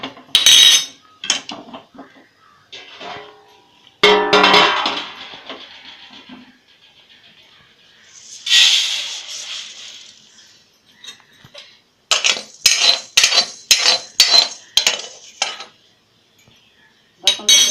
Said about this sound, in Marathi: आपण काढून घेऊया, आणि दुसरे तांदूळ टाकूया भाजायला.